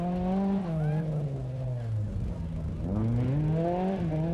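Nissan Sunny rally car at the 1995 Rallye de Hannut, its engine loud and close with rising and falling revs through gear changes, a brief dip mid-run, then climbing again, with no talking.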